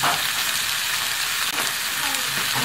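Chicken gizzards seasoned with pepper and bay leaf sizzle steadily in a frying pan as they are stirred, a dense, loud, continuous frying hiss with a brief scrape partway through.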